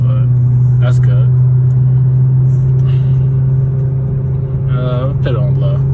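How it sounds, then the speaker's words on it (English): Kia K5 GT-Line with a high-flow catalytic converter heard from inside the cabin as a steady low exhaust drone under ongoing talk, with no clear crackle standing out. "I can still hear the crackle, especially when I let go of the gas."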